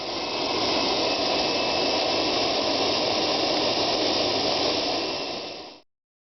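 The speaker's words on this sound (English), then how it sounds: "a production motorcycle using a jet engine" An MTT Turbine Y2K, a production motorcycle powered by a jet turbine engine, gives off a loud, steady hissing roar at close range that holds for several seconds before cutting off abruptly.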